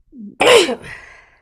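A single person's sneeze: a brief voiced intake of breath, then one sharp, loud, close burst that trails off quickly, with no talk around it.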